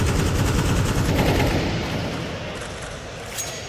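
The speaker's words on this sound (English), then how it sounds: "Keeps it clean with the P250." P250 pistol and other gunfire in a Counter-Strike 2 match at the PGL Copenhagen 2024 Major, a dense loud rattle of shots that thins out and softens toward the end.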